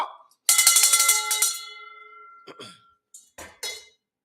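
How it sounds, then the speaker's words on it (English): Victory bell rung at a live business event, a rapid burst of bright, close metallic clangs for about a second that rings out, followed by a few scattered single strikes. "I'm going to give you the victory bell right now for taking action, Matthew."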